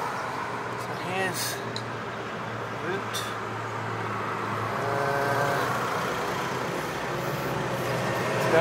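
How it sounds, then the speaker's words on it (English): A city bus in Seville pulls up at a stop, its engine droning and growing slightly louder as it nears, with brief brake hiss and street traffic around and voices talking. "Oh, yes, here comes my bus."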